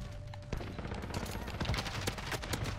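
Sharp gunshots crackle in Modern Warfare multiplayer with a Kilo 141 rifle, a string of quick bursts at moderate loudness with a steady game-ambience bed.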